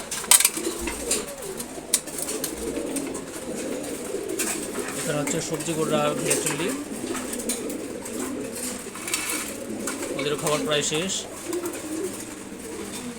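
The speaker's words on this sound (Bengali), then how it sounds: "সকাল সকাল কবুতরগুলোকে খাবার দিলাম।" Racer and other pigeons eating their morning feed, soft cooing and scattered bird sounds under someone talking close by throughout.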